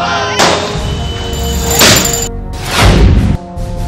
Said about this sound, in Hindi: सड़कों पर गुलाल के साथ आतिशबाजी